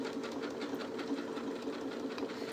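A sewing machine stitches hexagon patches for quilting, its rapid, even needle clatter running continuously at close range with no talking.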